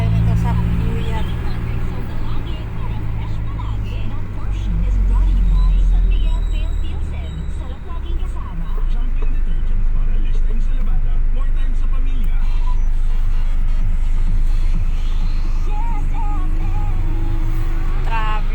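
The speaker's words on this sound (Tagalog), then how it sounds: "Traffic." Steady road traffic rumble from cars and buses on a street at early morning, a continuous low drone with passing vehicles, with talk heard over it.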